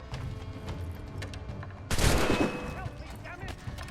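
Gunshots ring out in the pirate-era video game Assassin's Creed IV: Black Flag, a sudden loud volley of overlapping shots erupting midway over quieter ambient battle noise, then fading into scattered echoes.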